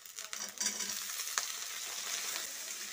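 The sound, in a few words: potato pieces frying and being stirred with onions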